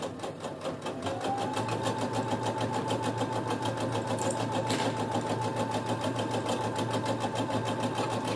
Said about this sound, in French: On fait sa couture à 1 cm du bord, point avant, point arrière, pour commencer et pour terminer.